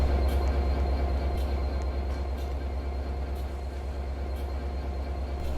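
A train running in a Roblox video game, with a steady loud rumble of wheels and engine throughout, close and continuous with faint high clicks.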